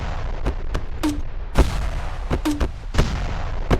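Grenade and gun blasts from the RMC-14 video game come as a run of sharp, loud cracks and booms, about eight of them, spaced irregularly over a constant low rumble.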